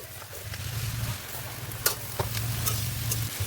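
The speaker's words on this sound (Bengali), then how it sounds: "এখন বেগুন আর আলু দিয়ে দেব" Eggplant and potato fry steadily in a pan, a low sizzling hiss with occasional sharp scrapes and clicks of stirring, close and continuous.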